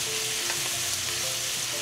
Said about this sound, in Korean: 그렇기 때문에 2분간만 가볍게 볶아보세요.